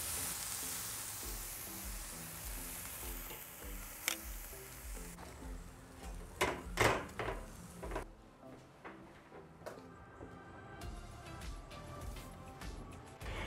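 Skirt steak sizzling on a grill, a broad hiss filling the opening seconds, then quieter crackling with a few knocks and clatters of handling, fading toward a softer frying hiss.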